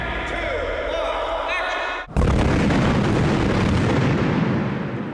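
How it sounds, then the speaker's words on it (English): Pyrotechnic charges fire during a half-scale model shoot simulating dragon fire impacts on the ground; a sustained, roaring blast erupts after about two seconds, following a stretch of tonal sound and voices, then rumbles loudly to the end. "where the dragon fire lands, you'll see all the pyrotechnic charges going off"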